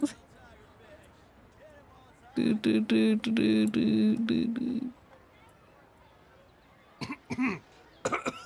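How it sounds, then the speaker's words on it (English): A burst of harsh, repeated coughing from the character Baizhu in Genshin Impact, loud and close, followed by a few shorter coughs after a pause. "Baizhu, stop coughing, hang on"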